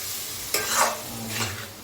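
Spoon stirring chicken curry in a pan, two soft scraping, sizzling swishes close by with a low hum underneath and no voices.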